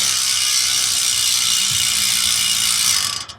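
Bicycle freewheel ratchet on a White Industries CLD hub spinning freely, a dense, steady high buzz of pawl clicks held at even loudness for about three seconds before quickly tapering off, close up with no talk.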